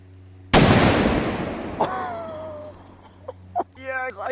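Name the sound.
large Spanish firecracker exploding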